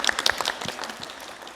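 Brief burst of applause from an audience, loud at first and then thinning out to scattered claps within a second or two.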